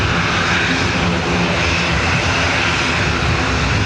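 A Ryanair airliner taking off from Dublin Airport bound for Valencia gives a loud, steady broadband engine roar that fills the whole moment without letup, close and overpowering.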